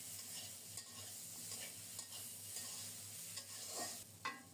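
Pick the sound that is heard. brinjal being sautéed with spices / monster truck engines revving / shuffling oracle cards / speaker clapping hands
brinjal being sautéed with spices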